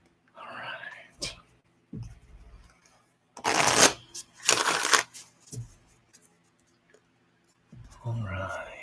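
Tarot cards shuffled up close in a quiet room, two loud bursts of riffling cards with scattered softer taps and shuffles around them, while someone speaks quietly at the start and end.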